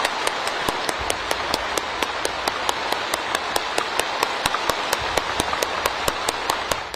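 Nearly 3,000 delegates rise and applaud in a vast hall, a sustained roar of clapping steady throughout, with sharp regular beats punching through as though the crowd claps partly in unison.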